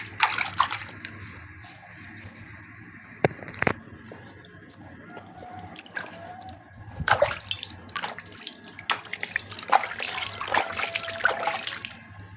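Hot and cold water are poured and splashed over an LPG gas canister while it is in use, giving intermittent close trickles and splashes separated by quieter pauses.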